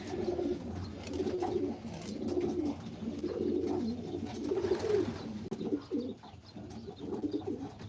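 Racing pigeons coo steadily in a loft, their low rolling calls overlapping throughout at close range with no voices.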